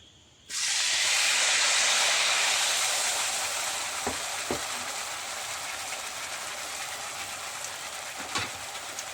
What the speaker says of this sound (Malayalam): എണ്ണ ചൂടായിട്ടുണ്ട് നമുക്ക് ഇതിലേക്ക് പപ്പടം മുക്കിയിട്ട് ഇട്ട് കൊടുക്കാം